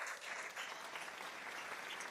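Brief burst of congregational applause in a church service, dense, steady clapping from a crowd lasting a couple of seconds.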